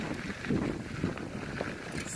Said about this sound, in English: These trees got a lot of wind.